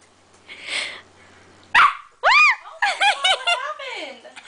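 A puppy lets out a quick run of high, yelping barks and whines close by, preceded by a soft breathy laugh from a person nearby.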